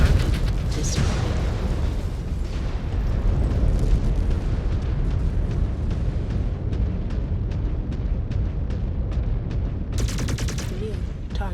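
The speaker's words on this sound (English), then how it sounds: "Detonation confirmed." A target detonates in the video game MechWarrior 5: Clans amid a loud, continuous battle roar of booming blasts and rapid weapon fire, with sharper bursts near the start and again near the end.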